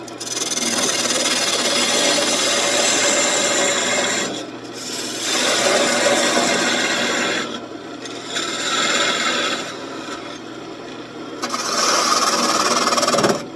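A wood lathe tool cuts into a small spinning wooden ornament with a continuous rasping scrape, loud and close, swelling and easing in long strokes with brief dips.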